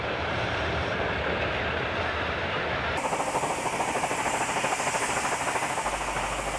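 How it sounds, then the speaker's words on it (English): A train hauled by modern motive power crosses the timber trestle bridge at Tamworth, New South Wales, with a continuous rumbling roar and faint rhythmic clatter. It grows louder and brighter partway through. "Tamworth's trestle bridge still bearing the weight of modern motive power."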